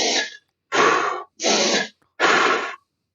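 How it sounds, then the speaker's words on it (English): Four breathy inhales, nose first and then mouth with the tongue pressed to the roof of the mouth to block it, each a short rushing burst separated by brief pauses, close and clear with no talking. "where the first half of my breath is in the nose"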